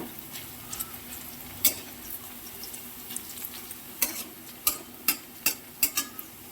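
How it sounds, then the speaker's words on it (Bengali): Paneer frying in hot mustard oil, a soft sizzle under a series of sharp spatula clicks and stirs that grow more frequent toward the end. "সর্ষের তেল গরম হয়ে গেছে, পনিরগুলো দিয়ে দিলাম। পনিরগুলো হালকা করে ভেজে নেব।"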